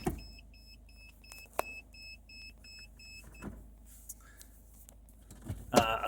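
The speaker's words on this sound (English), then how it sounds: "They give a gauge, they beep and give a gauge as to how close you are" Citroen Berlingo parking sensor beeping in a regular series of short, evenly spaced tones, near and clear, ending with a brief clatter.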